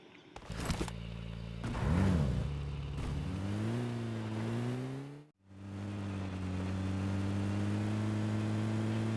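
A car driving in PUBG, its engine revving and shifting with rising tones, briefly cutting out before settling into a steady, fairly loud drone.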